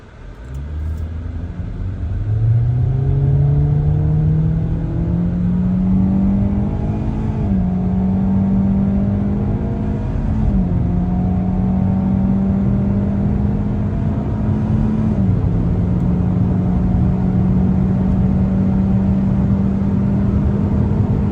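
A 2024 Hyundai Elantra Limited in sport mode with traction control off accelerates hard, its engine note climbing steadily through several gear shifts, loud and sustained from inside the cabin with no talking.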